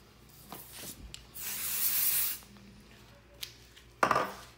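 Basting spray misted lightly onto sticker paper taped edge to edge, heard as one soft, close hiss lasting about a second, followed by light handling clatter and a sharper tap near the end, with no talking.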